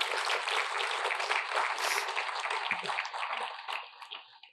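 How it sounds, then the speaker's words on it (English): Audience clapping at a conservation research forum, a dense patter of many hands that holds steady, then thins and fades over the last second or so. "Can we get a round of applause for their 10 years of hard work?"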